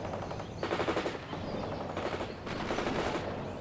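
Sustained machine gun bursts in the war strategy game World in Conflict, rapid rattling volleys in several loud waves with brief lulls between them, with no talk.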